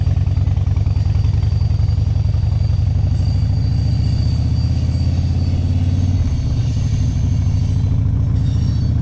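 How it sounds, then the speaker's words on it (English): A passing train gives a continuous low rumble with a steady rhythmic clatter, constant and moderately loud throughout, with no voices over it. "There's a train."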